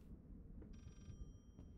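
A telephone rings in the horror game Layers of Fear, one faint electronic ring burst sitting quietly over a low rumbling background.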